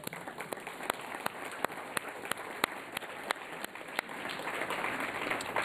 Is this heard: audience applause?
yes